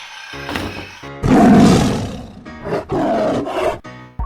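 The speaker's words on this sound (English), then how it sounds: "Tiger." Tiger roaring in loud, rough bursts, two or three deep growling roars with brief pauses between, close and alone.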